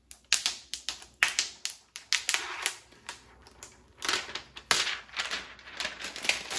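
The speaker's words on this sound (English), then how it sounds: "let's go ahead and peel all this off now." Close, dry crackling snaps and peels as protective plastic film is stripped from an ECOVACS DEEBOT T8+ robot vacuum, arriving in quick irregular bursts of sharp ticks and rustles.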